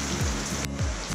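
A dense, steady wash of heavy rain hisses on surfaces in the Philippines, constant and loud with no voices.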